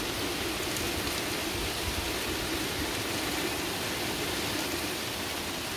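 Steady rain falling as a dense, even hiss with no breaks, fairly loud and alone for the whole stretch.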